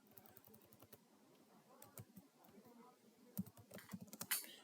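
Quiet, close keystrokes on a computer keyboard entering a command at a command prompt, in an irregular run of taps that grows denser and louder toward the end, with faint background talk.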